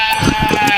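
A sheep gives a single short, loud, wavering bleat, close and clear.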